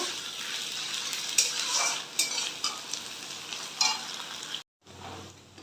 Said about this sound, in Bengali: এই পর্যাতে আমি আদা রসুনের পেস্টটা দিয়ে দিচ্ছি এগুলো একসাথে ভেজে নেব